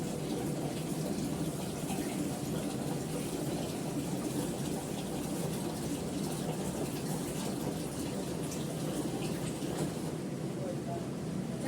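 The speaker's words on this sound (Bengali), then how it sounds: "চালটা ধুয়ে রেডি করে রাখলাম" Rice being washed in a pot under a steady stream of water, a loud unbroken gushing and splashing rush that holds level throughout with no pauses.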